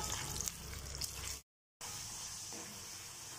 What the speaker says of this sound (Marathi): बटाटे तेलात टाकल्यावर सारखं हलवत राहायचं, इथे चिपकतात ते एकमेकांना.